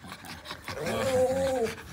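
A dog, with puppies nearby, pants and makes a drawn-out whining, rasping vocal sound up close, fairly loud and clear with no talking over it.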